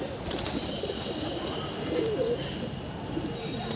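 A pigeon coos softly and continuously against a steady hiss of outdoor background noise, close by but not loud.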